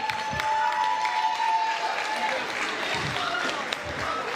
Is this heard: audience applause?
yes